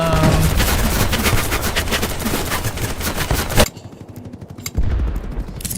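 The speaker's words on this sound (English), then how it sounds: "They're shooting at us!" Gunfire in the video game Battlebit Remastered: loud, rapid automatic bursts of shots, a sharp blast, then a brief lull before more scattered firing resumes, close and dominant with no talking.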